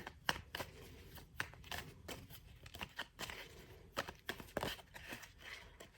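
Tarot cards being shuffled up close, a run of quick riffling and tapping bursts at an uneven pace, fairly quiet with no talking.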